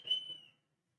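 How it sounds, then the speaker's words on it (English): A shrill whistle blows once at a parade, loud at first and then fading away over about half a second, leaving silence. "The whistles are wild."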